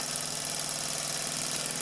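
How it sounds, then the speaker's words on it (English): An upright steam engine, a Doll 320/3 model just repaired and repainted, runs smoothly with a steady, even mechanical chugging and hiss that holds at a constant level throughout, close by and with no talk. "That's probably the best running upright engine I've got."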